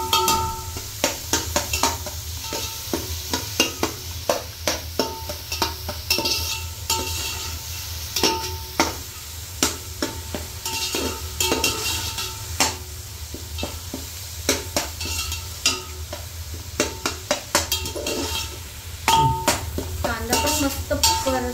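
Onions sizzle steadily in a hot pan while being sautéed for prawn biryani, with frequent scraping stirs and clinks of a spoon against the metal, continuous and close throughout.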